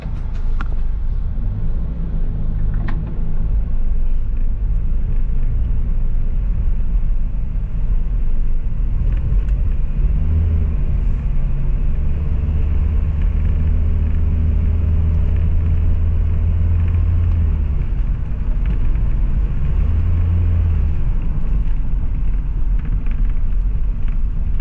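A Hyundai Grand Starex van on a road test after a transmission filter cleaning, its engine and road rumble steady and close from start to finish, with occasional low swells as it changes speed.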